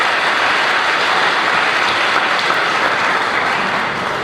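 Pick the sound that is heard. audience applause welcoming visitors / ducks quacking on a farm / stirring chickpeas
audience applause welcoming visitors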